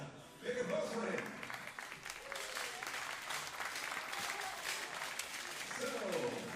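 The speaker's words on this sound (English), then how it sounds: "Big applause for him." Applause at a European championship 50m rifle three-positions trio men's shooting event, a steady sustained clapping from a crowd for the press officer, carrying on through the whole stretch at moderate loudness.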